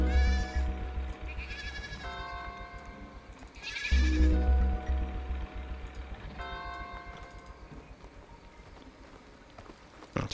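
Several sheep bleat in the Sword & Sworcery video game, loud wavering cries near 0, 2, 4 and 6 seconds over a rhythmic low clip-clop beat and game music, with no talking.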